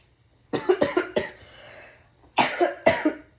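Close, harsh coughing in two clusters of rapid hacks, separated by a short pause with a raspy breath.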